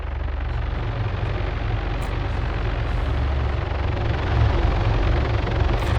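AI-piloted helicopters flying in to land in the Arma 3 video game, a steady low rotor thrum with a constant engine hum, loud and unbroken, heard alone without talk.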